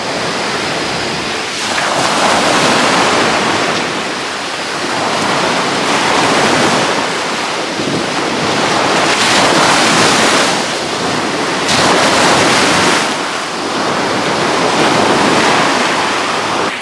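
Sea waves wash against the shore in a loud, continuous roar, surging and easing in repeated swells every few seconds, with wind buffeting the microphone and no voices.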